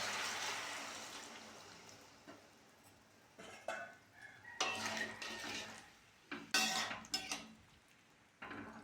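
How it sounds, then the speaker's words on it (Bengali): Water poured a little at a time into a pan of ridge gourd and potatoes, giving a broad hiss-like splash at the start, then a few louder sizzles and clatters of utensils against the pan, close by with no talking. "এবার অল্প করে জল দিয়ে দেবো।"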